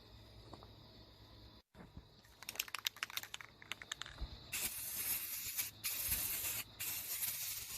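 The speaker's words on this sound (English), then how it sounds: "Spray a little primer on it so it don't rust." Aerosol primer sprays onto a welded, wire-wheeled decklid of a 2000 Lincoln Town Car, starting with clicky handling noises, then several steady hissing bursts with brief pauses in between.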